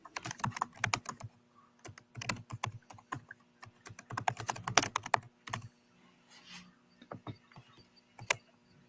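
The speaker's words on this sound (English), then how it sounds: "As you're typing away" Rapid clacking of computer keys in uneven bursts with short pauses, close and fairly quiet.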